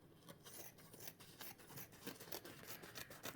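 Scissors snip repeatedly through a paper towel, cutting it into small pieces with quick, close crunchy cuts in an uneven rhythm and no talking.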